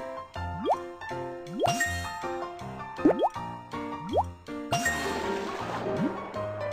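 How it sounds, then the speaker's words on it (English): Cartoon water drips and plops in a Baby Bus firefighter rescue game as the pipes fill, a series of bright rising bloops and tinkles over light game music, ending in a fuller splashy burst. "The pipes are all connected. Water is filled up."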